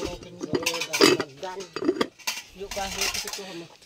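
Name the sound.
cooking pot and plates being handled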